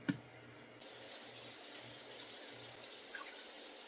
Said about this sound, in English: we're only going to put in 1/2 cup of water